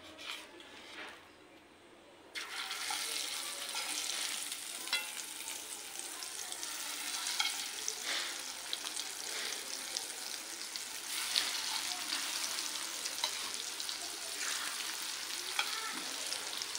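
Large brinjal slices fry in hot oil with a steady, dense sizzle that starts after a quieter opening moment and carries on loud and close throughout, with small pops and crackles scattered across it.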